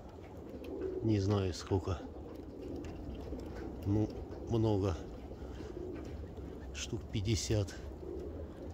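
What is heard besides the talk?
pigeons cooing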